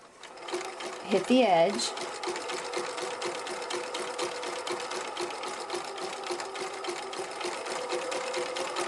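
A sewing machine runs steadily while stitching a zigzag seam finish along a fabric edge, giving a loud, continuous rapid mechanical chatter throughout. A person speaks briefly near the start over the machine.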